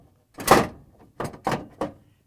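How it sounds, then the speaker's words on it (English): A plastic ice container slides into the auger assembly of a Frigidaire refrigerator: one loud scraping slide followed by three short knocks and clunks as it seats, close and alone. "we can install ice container in auger assembly by just sliding it in"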